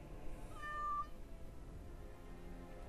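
A cat in the game Dragon Age Awakening gives a single short meow that stands out briefly above a faint background bed.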